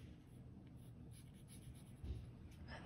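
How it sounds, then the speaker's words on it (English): Pencil lightly sketching on paper, a soft, close scratching and brushing of graphite strokes that continues quietly with small irregular swells and no voices. "I'm keeping my pencil marks so light."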